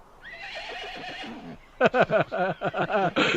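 A voice imitates a horse's whinny with a long, wavering neigh, then breaks into a run of choppy, rhythmic snorting bursts, close and loud.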